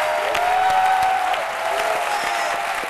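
A studio audience at a midday TV show in Côte d'Ivoire claps loudly and continuously with a few scattered whoops, a dense, steady wash of applause from start to finish.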